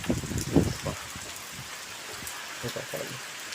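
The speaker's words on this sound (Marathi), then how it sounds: "जोरदार असा पाऊस चालू आहे" Heavy monsoon rain falls steadily in a chilli field, a constant broadband hiss beneath voices talking close by.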